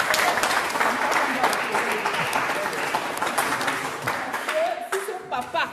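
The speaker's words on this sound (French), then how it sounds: "donnons un gros tonnerre d'applaudissements à notre papa et nous" An audience at an alumni association general assembly gives a hearty round of applause for a father. The clapping is dense at first and thins out toward the end, where a voice begins to speak.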